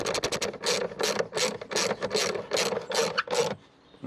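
A ratchet spanner tightens a car battery terminal clamp during a battery change, giving quick rhythmic clicking strokes up close that stop near the end.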